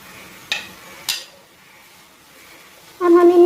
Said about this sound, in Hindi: अब हम इन मसालों को अच्छे से भूनेंगे